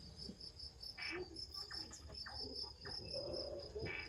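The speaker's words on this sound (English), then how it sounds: "All set against a chorus of crickets." Chorus of crickets chirping at night in a forest setting, a steady high-pitched trill continuing throughout, with soft rustling and faint scattered sounds underneath, no talking.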